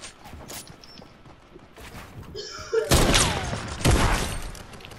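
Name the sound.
rockets being fired and exploding in a video game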